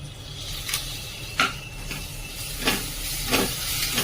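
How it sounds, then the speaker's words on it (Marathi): A spice paste of red chilli, cumin, coriander and kitchen king masala is sautéed in oil, making a constant close hiss and sizzle broken by a few sharp spatula scrapes and ticks. "आता हे सर्व साहित्य आपण व्यवस्थित तेल सुटेपर्यंत परतून घेणार आहोत।"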